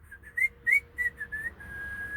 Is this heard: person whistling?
yes